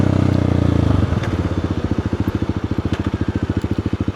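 Kawasaki KLX300 dual sport motorcycle, its single-cylinder engine loud and close, revving hard at first then settling into a steady, rhythmic chugging thump.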